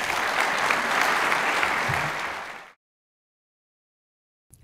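An audience at a dental school medical grand rounds applauds a speaker, a full burst of clapping for under three seconds that cuts off abruptly into silence, followed by a brief faint noise at the very end.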